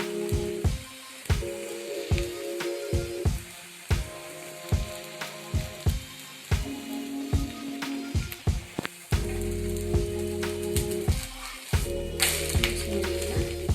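An instant dosa cooking in oil on a pan, a light crackle under a run of sharp rhythmic taps and scrapes from a spatula, close and fairly loud.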